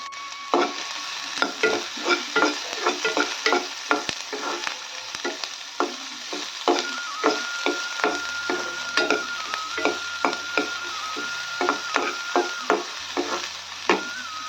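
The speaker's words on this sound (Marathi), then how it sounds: "बघा आपला कांदा छान परतून झालाय" Chopped onion sautéing in a pan on a gas stove for a ridge gourd dish, with steady sizzling and repeated sharp scrapes of a spoon stirring, close and loud, no talking.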